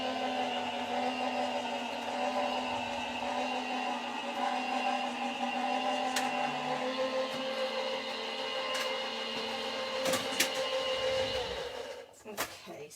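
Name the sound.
die cutting machine pressing a cover plate die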